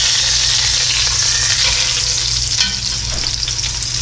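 A freshly flipped beef roast sears loudly in a pan, producing a dense, constant hiss and crackle up close, with no speech over it.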